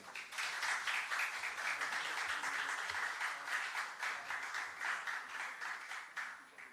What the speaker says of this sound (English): a round of applause, please, for this momentous occasion